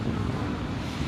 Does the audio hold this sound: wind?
yes